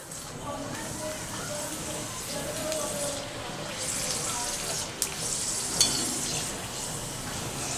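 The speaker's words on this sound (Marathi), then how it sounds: "तेलाला चांगला ताव आला की आपण यामध्ये पापड्या, चकल्या तळून घ्यायच्या आहेत।" Sabudana potato chakli and papad fry in hot peanut oil, a steady moderate sizzle and crackle with a few sharp pops and clinks from stirring, while a voice talks over it.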